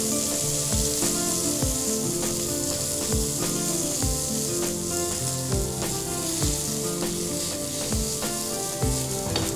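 Spicy chicken skewer pieces fry in a pan with a loud, close, continuous sizzle, punctuated by regular clinks and scrapes of stirring.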